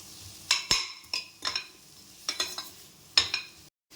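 Chicken masala being stirred and sautéed in a pan, with a soft sizzle under repeated sharp scrapes and clinks of a spoon against the metal, arriving in short irregular bursts, close and moderately quiet.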